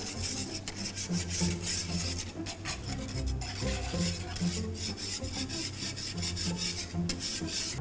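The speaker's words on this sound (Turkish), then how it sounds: "Birazcık daha çırpıyorum." Supangle pudding mixture whisked in a bowl right after the milk goes in, a steady close rasping and scraping that keeps a brisk rhythm without pause.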